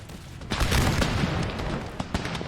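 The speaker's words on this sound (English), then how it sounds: "we're gonna get another volley off as they're charging" Musket volleys crackle in Empire Total War, a dense ragged burst of many shots around the middle followed by scattered sharper reports, loud and fairly close over continuous battlefield rumble.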